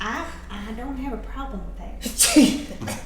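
A single sharp sneeze bursts out near the end, close and loud, following a stretch of casual conversation among players at a tabletop role-playing session.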